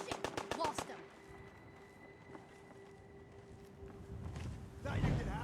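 Gunfire in Fallout 4 opens with a rapid burst of loud shots, then a lull with a steady hum and a lone crack, and ends with another heavy blast and rumble.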